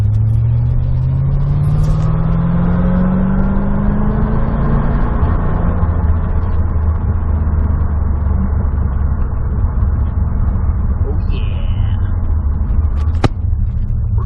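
A 1991 C4 Corvette engine revs and accelerates steadily, its rising drone loud and close throughout, with continuous road noise and no talking.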